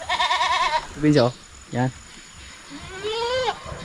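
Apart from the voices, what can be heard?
goats bleating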